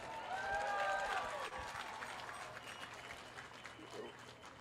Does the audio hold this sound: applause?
yes